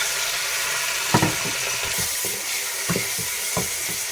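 Small cubes of chicken frying in oil, with a steady close sizzle and hiss plus a few sharp spits and pops scattered through, no talking.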